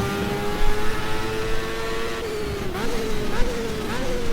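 A race car in the GTR2 racing game at Motegi howls at high revs, its engine tone rising and dipping through shifts, loud and close, with brief tire squeals and a voice talking underneath.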